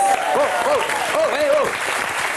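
A studio audience claps in a steady burst of applause lasting a couple of seconds, loud and close, with a voice calling out over it.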